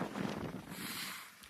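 Wind gusting hard across the microphone at Tillicoultry Glen, a broad steady rush and buffeting roar that fills the whole short moment without any voices.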